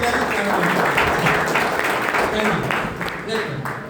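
An audience at a health awareness program in Sagar, Madhya Pradesh breaks into loud clapping that tapers off toward the end, with a voice talking over part of it.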